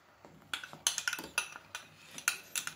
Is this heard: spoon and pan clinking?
yes